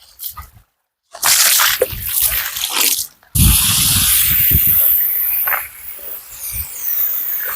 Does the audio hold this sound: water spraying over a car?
yes